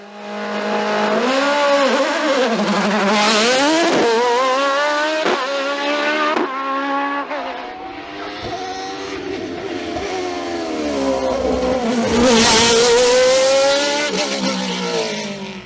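A Nova Proto NP01 V8 race car screams up a mountain hill climb near Saint-Jean-du-Gard, its engine loud and near, pitch rising and falling through repeated gear changes and corners.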